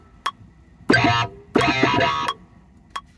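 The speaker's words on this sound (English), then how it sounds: "I'm going to use some guitar sounds, some distortion sounds" Two sustained chords of distorted electric guitar, loud and gritty, separated by short clicks and a pause, with quiet gaps between.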